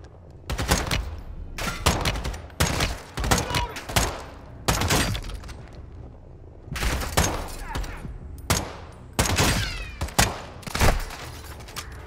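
Call of Duty: Modern Warfare II gunfire: repeated loud bursts of rapid shots, about eight in a row with short pauses, close and dominant.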